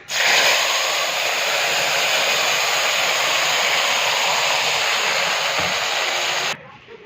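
Banana peel paste sizzling in a wok of hot oil with a dried red chilli and nigella seeds, a loud steady frying hiss that holds throughout and cuts off near the end.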